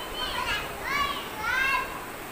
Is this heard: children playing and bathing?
yes